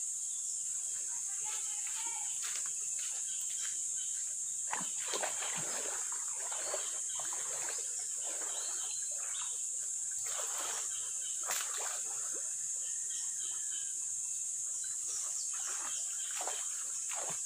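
Water splashes and sloshes irregularly as someone bathes in a river outdoors, with a constant high insect drone in the background.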